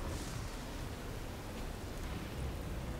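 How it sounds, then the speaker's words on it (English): Steady, dense hiss of rain fills the whole stretch, soft and even without breaks or voices. "I should turn off the rain sounds."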